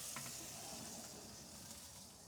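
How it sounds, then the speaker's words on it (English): BBQ Jamaican jerk meatballs sizzle faintly on the grill, a steady soft hiss that stays even throughout. "we just about got these meatballs back on the grill"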